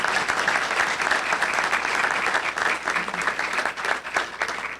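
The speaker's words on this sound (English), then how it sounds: "Let's give them a round of applause." Audience members at a governor's event on teacher pay give a sustained round of applause for teachers, dense clapping from many hands throughout that tapers slightly at the end.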